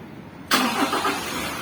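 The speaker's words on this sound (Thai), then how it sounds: "ถ้าเราต้องการสตาร์ทเครื่องเราไม่ต้องกดวนให้มันปิดครับเราเหยียบเบรกแล้วสตาร์ทได้เลยแบบนี้" A 2022 Toyota Commuter van's engine cranks and fires up via a push start button after a quiet lead-in, then settles into a steady, loud running rumble close by.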